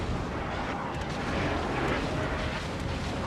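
Naval shell fire from a Minotaur cruiser in World of Warships, a continuous roar of distant, rumbling gunfire and impacts with no clear breaks, fairly faint and steady throughout.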